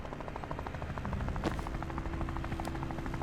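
Helicopter rotor thudding steadily in the tactical game Tactical Breach Wizards, a continuous rhythmic chop under game music with a brief sharp burst midway.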